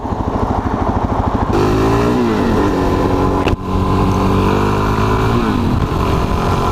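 Loud, continuous Suzuki DRZ400SM motorcycle engine drone while riding, its pitch rising and falling as the rider shifts through gears, with wind rushing.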